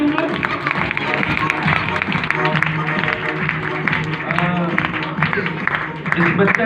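An audience in a church at a Christmas gift event claps loudly and continuously, a dense steady patter of applause. Voices can be heard mixed in with it.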